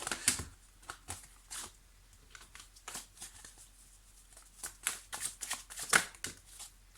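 Tarot cards being shuffled by hand at close range, a series of quick riffling bursts with short pauses between them, alone without talk.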